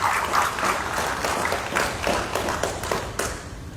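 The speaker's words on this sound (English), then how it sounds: "Please give yourself a round of applause." Audience applause at a police closing ceremony for community policing and advanced law enforcement courses, a steady, dense patter of many hands clapping that carries on at an even level throughout.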